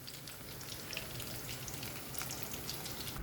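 Prawns fry in shallow oil in a pan, a steady close sizzle with dense crackling pops running the whole time and no voices.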